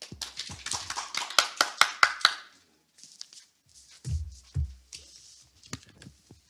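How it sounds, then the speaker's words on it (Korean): An audience at an Incheon smart city forum gives a short round of applause to welcome a policy speaker, a burst of clapping that fades out after about two seconds, followed by scattered taps and handling noises. "박수로 환영해 주시면 감사하겠습니다"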